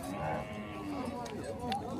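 Cattle low at a busy livestock fair in Tabira, Pernambuco: a drawn-out moo rises and falls beneath steady chatter from nearby people.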